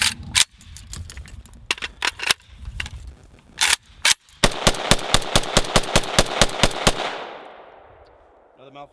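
A VSKA rifle firing during a 6,000 round endurance test: loud, close shots in irregular bursts, then a fast steady string of about a dozen rapid cracks before the noise cuts off into ringing decay.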